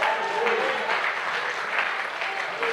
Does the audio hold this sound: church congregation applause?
yes